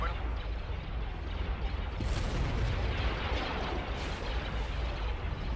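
Missiles explode in a space battle video game as a steady rumble of booms and heavy blasts, with dense low-end roar filling the whole stretch and no clear speech.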